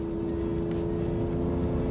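A V12 car with no power upshifts and revs, giving a steady, loud, close engine drone with gear-change dips and no real surge in pace.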